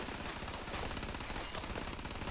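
Rapid gunfire from a Starfield game firefight, a dense continuous burst of automatic shots sustained throughout without pauses.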